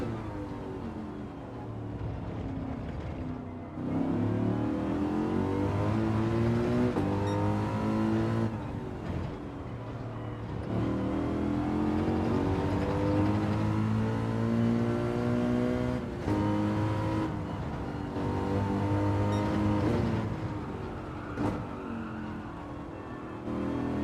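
A race car engine in Gran Turismo 7 runs hard on hard tyres, with loud, sustained harmonic revs rising through gears and dropping at shifts across several long pulls and no talk.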